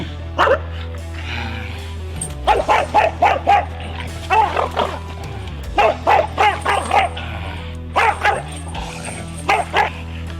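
An English bulldog gives repeated short yipping barks mixed with whimpers, loud and close, in rhythmic clusters with brief gaps, over a low steady hum.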